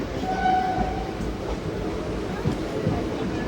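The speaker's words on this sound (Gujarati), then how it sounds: "ભાઈ સામે આવી ગઈ છે Somnath Rajkot local passenger train" A Somnath–Rajkot local passenger train rumbles past close by, a steady heavy roar of wheels on rails with a brief horn-like tone early on.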